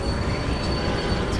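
EMD locomotive train running at speed in the video game Railway Empire, crossing the Andes: a steady, continuous rolling rumble of wheels on rails with faint high squeal, heard alone without talk.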